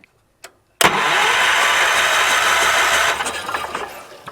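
Engine of a 1978 Wheel Horse C-121 garden tractor being turned over, suspected of an ignition fault: two small clicks, then a loud, close, steady cranking whir lasting a few seconds that fades into rattling without firing.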